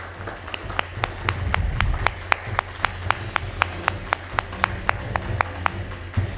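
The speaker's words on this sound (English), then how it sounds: "an even bigger round of applause, ladies and gentlemen" Audience applause for a keynote speaker at a conference, with claps falling into a steady, rhythmic unison beat over a dense wash of hands, sustained and fairly loud throughout.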